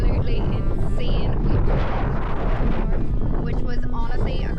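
Gusting wind buffets the microphone on a mountain pass on Ireland's Dingle Peninsula, a loud, rough roar that stays constant while someone talks over it.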